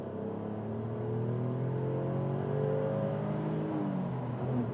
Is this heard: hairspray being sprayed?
no